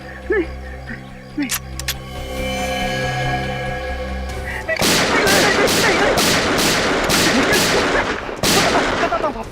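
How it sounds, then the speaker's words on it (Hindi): A burst of gunfire rings out, several sharp, loud shots in quick rhythm following a few seconds of engine and background hum, fired at close range into someone's legs in a crime-drama scene. "बस 4 गोलियां दाएं पैर में और 4 गोलियां बाएं पैर में ठोक दो, ताकि जिंदगी में भागने लायक ना रहे।"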